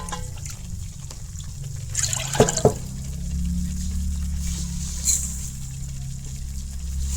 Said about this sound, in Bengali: সেম বাটি দিয়ে 2 বাটি জল দিন এখানে।